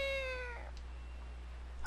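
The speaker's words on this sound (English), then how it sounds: "Did Link just meow?" Link meows like a cat in The Legend of Zelda: The Wind Waker: one clear, fairly loud meow lasting about half a second, followed by a quiet game background.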